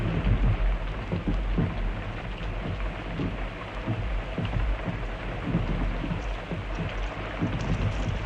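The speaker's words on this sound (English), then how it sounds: "the rain did not cease" Heavy rain pours down steadily over a World War I battlefield, with rolling thunder rumbling through the downpour in repeated low booms.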